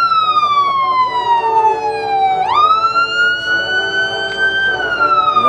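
Wailing emergency siren on an ambulance in a holiday parade, sweeping down then abruptly jumping back up in pitch, loud and close, with a steady traffic rumble underneath.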